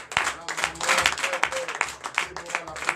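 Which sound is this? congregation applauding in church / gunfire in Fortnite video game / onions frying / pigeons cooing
congregation applauding in church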